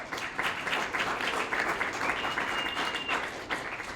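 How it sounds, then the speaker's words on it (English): A room full of people applauds steadily for several seconds, a dense, even patter of clapping. "Round of applause for Joe."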